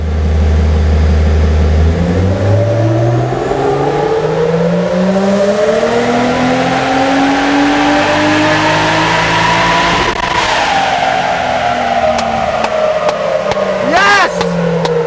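A 400HP RB30DET-powered Nissan Patrol, running too much boost, revs hard on a dyno, its loud engine note climbing steadily in pitch through a long sustained pull before falling off, with excited voices over the top.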